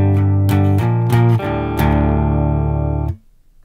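Distorted electric guitar plays the seventh measure of a song: a few punchy, heavy chord stabs in quick succession, then a sustained ringing chord that cuts off abruptly.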